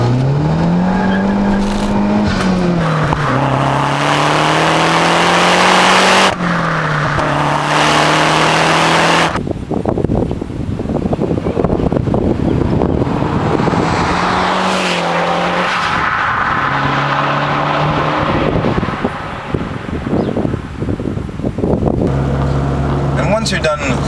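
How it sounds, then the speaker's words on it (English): A 260-horsepower front-wheel-drive Mazdaspeed 3 accelerates hard with a loud, close engine note. The revs climb and drop through several gear changes, and the tires squeal and skid between pulls, with talk heard over parts of it. "let me just give you a little demonstration of what 260 horsepower looks like in a front-wheel drive car"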